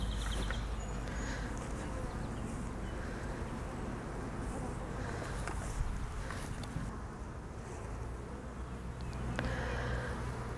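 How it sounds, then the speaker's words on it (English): Dense, continuous buzzing of many honeybees up close around a hive frame, a steady droning hum with occasional faint handling noises. "there are a lot of bees on here"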